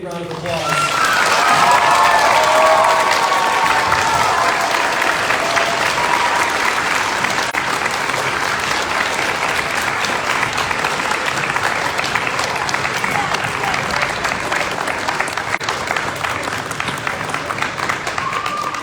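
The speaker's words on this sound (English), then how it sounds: "students, I want you to give Mrs. Colbert one more great big round of applause" Students give a teacher a long, loud round of applause at an Iowa Teacher of the Year announcement, dense clapping with some cheering that starts strong and holds steady throughout.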